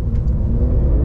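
A Porsche 911 Carrera 4 GTS engine rumbles low and steady up close for about a second, a deep continuous drone with no talking over it.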